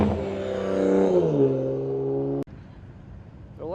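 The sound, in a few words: cars accelerating hard leaving Cars & Coffee Palm Beach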